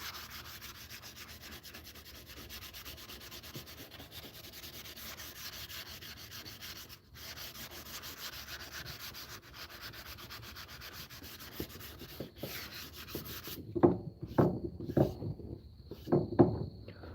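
Someone hand-sands wood with 80 grit sandpaper, steady rasping strokes that run continuously and fairly quietly, then turn into louder, more separate scrubbing strokes near the end.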